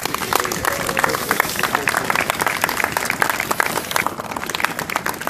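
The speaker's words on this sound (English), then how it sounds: "could you give them all, please," Crowd applause at an outdoor anti-fracking rally in Ellesmere Port, a sustained wash of many hands clapping at steady loudness for several seconds, with some voices mixed in among the crowd.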